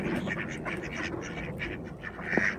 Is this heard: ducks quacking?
yes